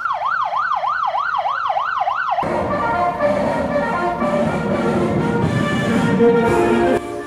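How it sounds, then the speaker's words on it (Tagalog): Police patrol car siren wailing in a fast rising and falling cycle, loud and close, then cutting off abruptly into a dense roar of engines and crowd noise from a motorcade. "may mabatian nga uwang sang patrol car sang pulis"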